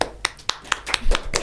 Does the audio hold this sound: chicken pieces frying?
no